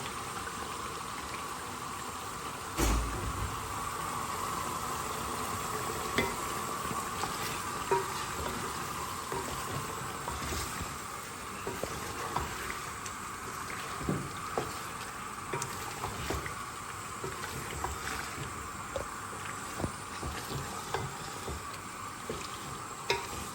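Meat fries in a pot for a chicken and beans curry, giving a soft continuous sizzle and bubble with scattered pops and stirring clicks, and no one talking.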